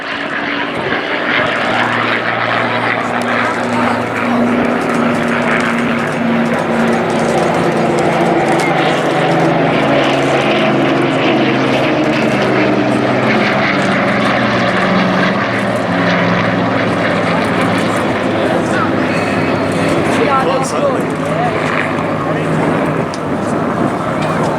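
A Dakota and a Hurricane, propeller aircraft of the Battle of Britain Memorial Flight, fly past at the Blackpool airshow with a loud continuous engine drone and a shifting propeller throb, while an announcer talks over the public address.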